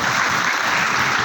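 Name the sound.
audience applause welcoming a speaker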